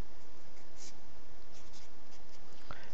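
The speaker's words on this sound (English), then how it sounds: "I'm going to write this over here really fast." Pen or marker writing out an equation, a close, continuous scratchy stroking sound with short bursts of faster strokes, no talk.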